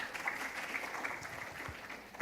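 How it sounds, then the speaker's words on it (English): Faint applause from an audience at an ASEAN-Korea startup award ceremony welcomes a speaker to the stage; a steady, quiet patter of clapping lasts throughout, sounding distant and soft. "please welcome him with a big round of applause"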